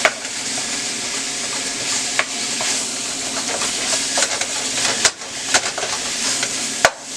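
Italian sausage and ground beef frying together in a pan, a loud, continuous sizzle with occasional sharp scrapes and knocks of a utensil stirring the meat.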